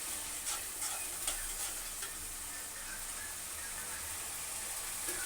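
Masala for chicken majestic with red chili sauce fries in a pan, giving a steady, loud sizzle broken by occasional scraping stirs throughout, with no voices.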